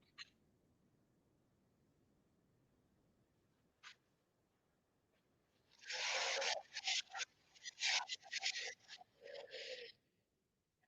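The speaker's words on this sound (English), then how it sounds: "Sanding is fun." Sandpaper rubs against the bridge of an all-maple parlor guitar in a quick series of close, scratchy strokes, following a few quiet taps.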